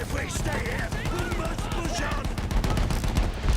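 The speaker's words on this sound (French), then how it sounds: "mieux vaut éviter ces tirs" Gunfire in the video game Battlefield 1, a dense run of rapid shots and bursts layered over other battle noise, close and continuous, with voices shouting beneath the firing.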